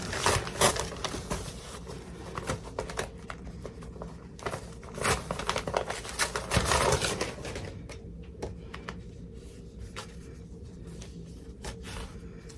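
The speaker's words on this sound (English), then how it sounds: "I'm going to just pull off this tearaway." Tearaway embroidery stabilizer pulled off an in-the-hoop apple mug rug, heard as a series of close, crisp paper-like rips and crinkles in irregular bursts, quieter toward the end.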